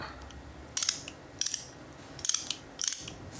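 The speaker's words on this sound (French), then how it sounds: "C'est tout simplement un tourne à gauche à cliquer que vous pouvez utiliser" A ratcheting tap wrench clicking in four short bursts of sharp, close metallic clicks, separated by brief pauses.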